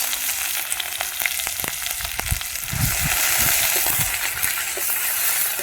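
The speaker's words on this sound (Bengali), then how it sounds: "পেঁয়াজটাকে একটু লাল লাল করে ভেজে নেব" Onion paste fries in a pan of oil with a little cumin, giving a close, continuous sizzle that grows louder and denser midway, dotted with small crackles and pops.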